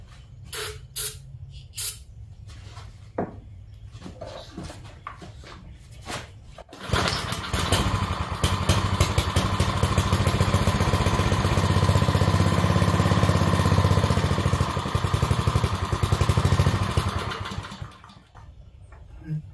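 A Cub Cadet RT65 tiller engine, fed starter fluid, fires after a few short hissing sprays and clicks, then runs loud and steady for about ten seconds before dying away.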